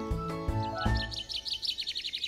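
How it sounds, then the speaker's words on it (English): Cartoon baby birds chirp in a rapid series of high, bright tweets that follow a short musical flourish, close and clear with no talking. "The baby birds are excited."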